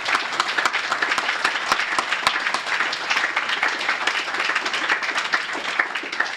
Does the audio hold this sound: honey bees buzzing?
no